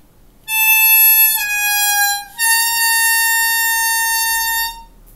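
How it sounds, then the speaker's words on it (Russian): Hohner harmonica overblow on the sixth hole: a bright, reedy tone held for about four seconds, with a short break and a noticeable pitch shift partway through, played alone. "И у нас должен получиться overblow."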